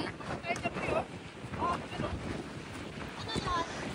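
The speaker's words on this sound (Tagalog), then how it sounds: "Ang lakas ng hangin." Strong gusting wind at a fishing and camping spot on the water at Lawson's Landing buffets the microphone in rough bursts, with people talking over it.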